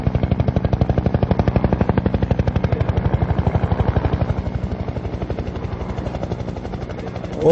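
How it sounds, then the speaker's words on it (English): Loud, steady thudding of helicopter rotor blades over a bridge area in Serbia, a rapid rhythmic chop that holds close and constant throughout, easing slightly toward the end. "Choppers coming here every day make a lot of noise."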